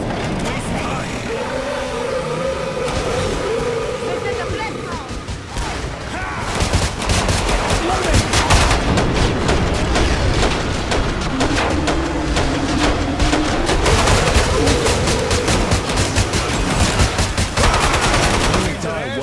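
Killing Floor 2 gunfire, sustained automatic bursts and dense volleys running through most of the stretch, loud and close, with game voice lines and talk over it.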